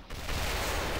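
Gunshot in the video game Quake 4, a sudden loud blast that fills the whole second with dense, sustained roaring noise.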